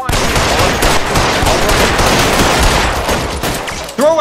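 Dense gunfire from a shootout in the LA Noire video game, with loud overlapping shots rattling continuously for several seconds before a voice shouts at the end.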